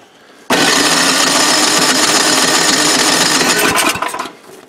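A snowblower engine is pull-started and fails to catch, giving a loud, dense mechanical burst of cranking and sputtering that runs about four seconds before dying away.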